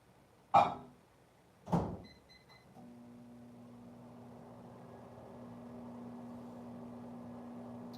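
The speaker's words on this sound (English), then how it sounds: "You'll probably hear the microwave." A microwave oven in a quiet room clicks shut and beeps, then starts running with a steady low hum and fan whir that continues to the end, preceded by two thuds.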